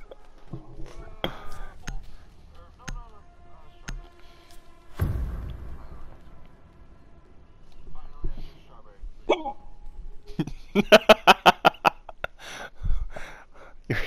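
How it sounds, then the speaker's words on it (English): Hiccups break out sporadically among people talking during a Rainbow Six Siege game session, with short sharp catches and thumps, and a rapid burst of clipped repeated bursts near the end. "Your hiccups sound so fucking weird."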